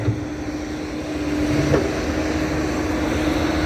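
A walk-behind tractor engine runs steadily nearby, a continuous low mechanical drone with a faint tonal hum that swells slightly partway through, with no talking.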